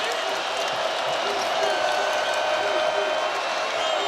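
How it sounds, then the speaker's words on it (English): A partisan Jayhawk basketball crowd in downtown Kansas City roars steadily during a Big 12 tournament game against UCF, a sustained wash of cheering and noise with a commentator's voice faintly present. "this partisan Jayhawk crowd in downtown Kansas City making some noise"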